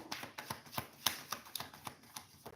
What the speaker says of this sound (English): If so, I will shuffle.